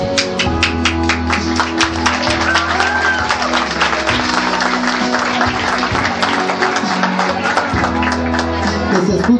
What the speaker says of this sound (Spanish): Escuche el aplauso para Sara